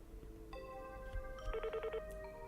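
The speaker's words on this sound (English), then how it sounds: "Then I picked up the phone and called the exam room." Telephone tones from the Slow Damage video game: a steady electronic ring tone followed by a quick run of about six short dialing beeps, then a further tone, with a faint low hum underneath.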